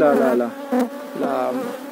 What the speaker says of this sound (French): la densité en abeilles qu'il peut y avoir.